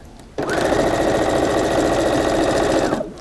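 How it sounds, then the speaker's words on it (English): A sewing machine stitching small quilt block pieces together runs in one steady, fast mechanical whir for about three seconds, loud and close, starting and stopping abruptly. "first I'm going to sew these three little ones together"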